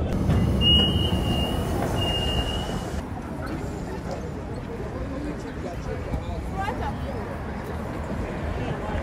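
A Chinese metro train running on Line 2 rumbles steadily and loudly from close by, with a brief high wheel squeal near the start and a faint murmur of passengers underneath.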